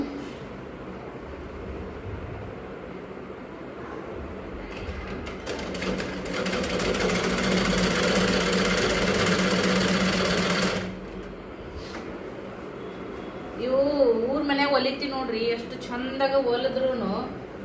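A sewing machine stitching cloth in a home tailoring setting, a loud rapid mechanical rattle running for about five seconds in the middle, with someone talking before and after it.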